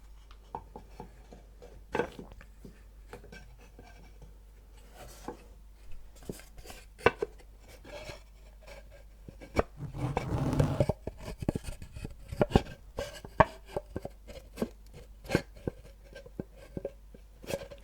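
Small wooden sudoku pieces are set back down onto a wooden board one after another, giving crisp, close taps and clicks with a denser burst of rubbing and rattling partway through.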